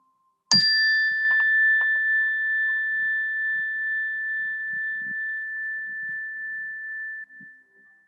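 A meditation bell is struck once and leaves a pure, steady ring that sustains for about seven seconds before cutting off, with a few faint soft bumps underneath.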